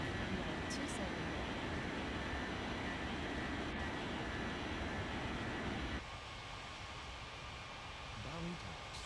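A fixed-wing airliner takes off from runway 27 at Bali airport, its engines a steady, distant broadband roar that drops noticeably in level partway through and continues more faintly.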